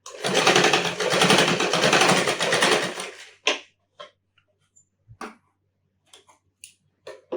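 Sewing machine stitching a folded saree fall runs in one loud, close, rapid burst for about three seconds, then stops, followed by scattered small clicks and taps as the cloth is handled.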